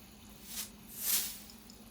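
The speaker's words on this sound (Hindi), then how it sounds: "मैं उसके 4-1 टेबल स्पून में क्रश टमेटो डालूँगी।" Spoonfuls of crushed tomato dropped into a chana masala curry, landing as two soft wet squelches about half a second apart, the second one fuller and louder, with faint kitchen hum beneath.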